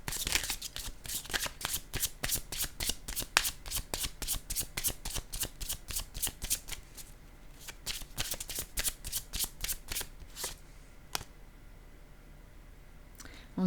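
A deck of playing cards is shuffled and drawn by hand in a card reading, making rapid, close, crisp riffling flicks in quick bursts that slow to a few isolated snaps near the end.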